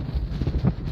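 Heavy wind on a walkway bridge buffeting the microphone, a steady low roar with rumbling gusts filling the whole second.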